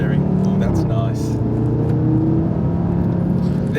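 A 2018 Audi RS3 8V five-cylinder engine pulls hard on the road, a loud, steady, harmonic drone that climbs slightly in pitch throughout, heard from inside the car.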